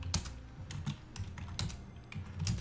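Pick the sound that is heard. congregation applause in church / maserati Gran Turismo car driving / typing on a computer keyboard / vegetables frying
typing on a computer keyboard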